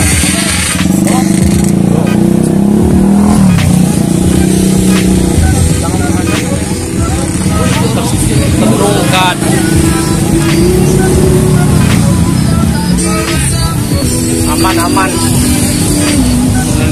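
The engine of a modified Kawasaki Ninja motorcycle, freshly repainted and recently crashed, rumbles and revs steadily up close, with people talking over it throughout.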